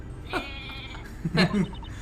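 A sheep bleats in the Professor Layton vs Ace Attorney game, two short wavering calls a moment apart, heard over a steady musical and ambient background.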